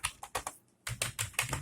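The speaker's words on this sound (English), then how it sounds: "I'm just going to use my keyboard" Rapid keystrokes clatter on a computer keyboard in two quick bursts separated by a short pause, close and clear with no talking.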